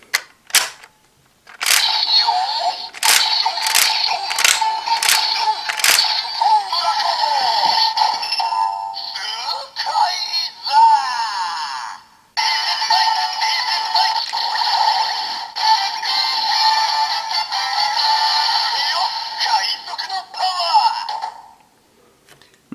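A DX DonBlaster toy from the DonBrothers line plays its generic pre-Gokaiger Sentai sound effect: a run of sharp electronic clicks, then a bright, buzzy, sustained jingle that cuts off briefly and resumes, loud and close with no talking.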